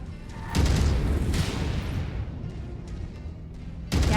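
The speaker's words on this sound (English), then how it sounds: "Incoming missile." Missile explosions in MechWarrior 5 roll out as a dense, continuous wall of heavy booms, loud and close, with a fresh blast hitting near the end.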